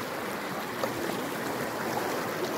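Tap water pours steadily in a village setting, a continuous broadband rushing splash that stays even and close throughout, with no voices over it.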